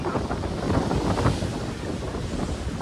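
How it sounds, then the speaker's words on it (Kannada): Strong sea wind on the Pamban Bridge buffeting the microphone in a loud, continuous low roar, gusting slightly stronger near the start. "ವಿಂಡ್ ಕೂಡ ಹಂಗೆ ತುಂಬ ಗಾಳಿ, ಕ್ರೇಜಿ ಗಾಳಿ ಬೀಸ್ತಾ ಇದೆ ನೋಡಿ."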